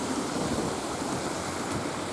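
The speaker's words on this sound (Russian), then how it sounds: "Вот водопад красиво течет здесь." Waterfall at a zoo pouring steadily into water, a continuous broadband rushing wash with no breaks, moderately loud and unaccompanied by voices.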